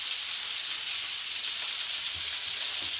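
Cod fillet fries in a pan coated in spice-encrusted flour, giving a steady, dense sizzle that stays even throughout with a few faint pops near the end.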